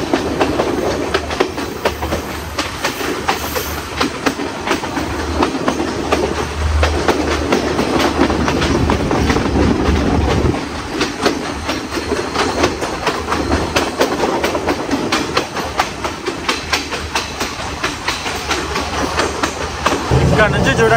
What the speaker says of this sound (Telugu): ట్రైన్ అయితే మటుకు చాలా హైట్ ఎక్కుతుంది అనమాట